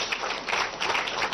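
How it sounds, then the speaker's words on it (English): A church congregation claps at a prayer and prophecy service, a dense, bright wash of many hands pulsing in loose surges across a short burst. "Clap for Jesus Christ."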